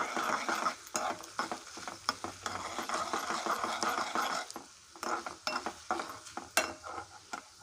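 Curry leaves and dried red chillies crackle and sizzle in hot oil as a tempering for bottle gourd dal, a steady busy frying hiss broken by sharp pops and occasional utensil clinks, close and continuous.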